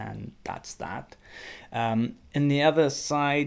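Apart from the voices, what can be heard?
None of the usual background noises is heard.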